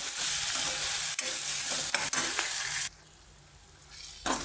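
Tomatoes and onions sizzle in a hot pan with salt, a spoon stirring and scraping through them with loud, steady frying noise that briefly quiets before a final clatter.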